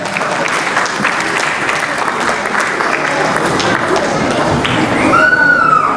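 A large audience at a Muslim talent show event claps steadily and densely throughout, a loud continuous wash of applause with a few cheers or whistles near the end.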